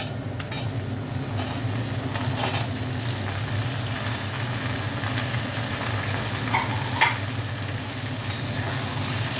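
Potatoes and eggplant fry with bitter gourd in a pan, giving a steady, dense sizzle with occasional faint scrapes and stirring clicks.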